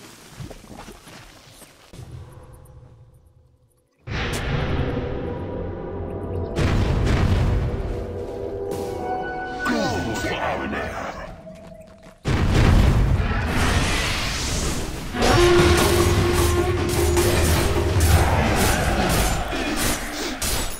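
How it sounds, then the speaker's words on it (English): Heavy booms from a tower under attack in Dota 2, with two sudden loud blasts that each give way to a long rumbling crash and debris-like clatter, set among game effects. "Dire's middle tower is under attack."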